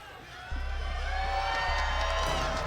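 An esports arena crowd at the Six Invitational 2023 tournament swells into sustained cheering and whoops after a quieter start, a broad steady roar that carries on to the end over a low rumble.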